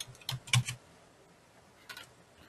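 A few quick keystrokes on a computer keyboard, a short burst of clicks followed by a single tap after a pause, fairly quiet and close with no talk.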